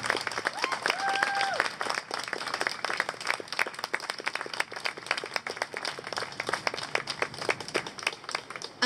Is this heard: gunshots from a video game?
no